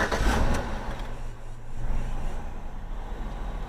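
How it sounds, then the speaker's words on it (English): A Chevrolet Equinox engine starting up, a short burst of cranking and catching, then settling into a low, steady idle heard from close by. "And we start up. Engine's running."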